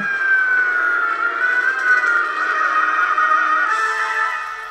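A police siren effect from the Cops 'n' Robbers slot machine game, a loud sustained wailing tone that holds steady and slowly dips in pitch, heard alone without talk.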